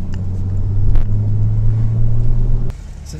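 A Nissan 370Z with a 3.7-litre V6 drives past with a steady low engine drone, growing slightly louder midway, then cutting abruptly near the end to a quieter rumble.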